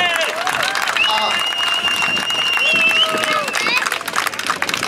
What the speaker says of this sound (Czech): Hoši, já bych Láďovi zatleskal.